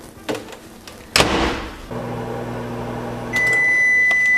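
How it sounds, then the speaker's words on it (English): A microwave oven warming butter for cinnamon buns: a thump as the door shuts, then a steady close electric hum, followed by a high continuous tone near the end. "So now this goes in the microwave for 15 seconds, something like that."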